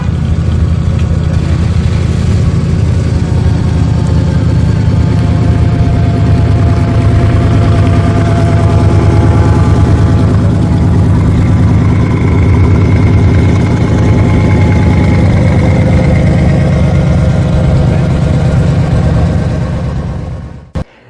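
A Corvette CERV III concept's 650-horsepower LT5 twin-turbo engine runs loud and close with a deep, steady rumble. It holds for about twenty seconds before cutting off abruptly.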